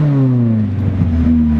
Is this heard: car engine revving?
yes